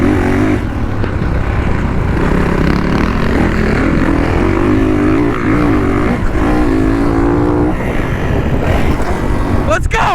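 A Kawasaki KX450F dirt bike engine drones steadily in third gear on a riding trail, loud and close with wind buffeting, and speech is heard over it.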